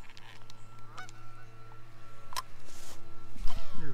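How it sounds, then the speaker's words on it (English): A lone goose honking in the distance outdoors, a few scattered honks over a low steady hum. "There's one lone goose over there honking"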